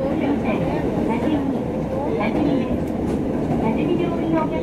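A JR Central Taita Line train rumbles steadily along the rails near Tajimi, a continuous low roar with faint rhythmic clatter, while an announcement-like voice talks over it.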